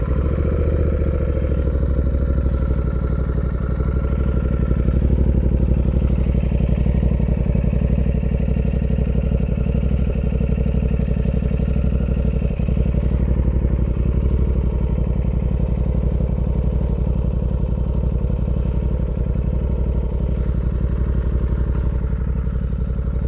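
A motorcycle engine runs continuously and loud, a steady rumbling drone with a faint mechanical clatter and no change in pace.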